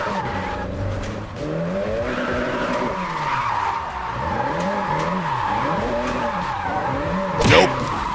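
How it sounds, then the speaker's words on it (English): In a racing video game, a car drifts with a loud engine whose pitch rises and falls in sweeping arcs while tires squeal and skid throughout, ending in a brief sharp impact near the end. "Gotta drift in there."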